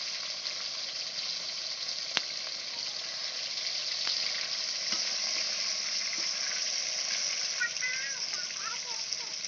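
Tomatoes sizzle and fry steadily in hot oil for a cauliflower curry, a dense continuous crackle with occasional utensil knocks and stirring clinks.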